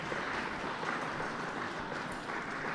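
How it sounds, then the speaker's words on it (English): Applause from spectators at the close of the women's B3 final at a blind and low vision tennis championship, a soft, steady patter of many hands heard from a distance, with no voices over it. "So applause happening in the finish of the women's B3 final there"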